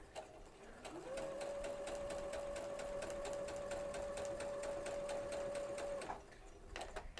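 A sewing machine with a quarter inch foot stitching a seam: a steady, even mechanical whir lasting about five seconds, starting and stopping cleanly, moderately close with no talking.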